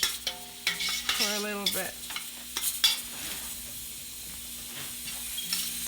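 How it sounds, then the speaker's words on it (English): Spinach sautés in a pan with a soft sizzle and scraping stirs, while a brief tonal sound and a few short words rise over the cooking near the start. "we're going to continue sauteing that"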